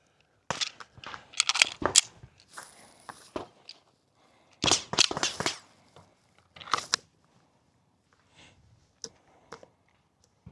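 A SIG P320 X5 Legion pistol fires at a shooting range in short groups of sharp, loud cracks separated by pauses, each shot ringing briefly.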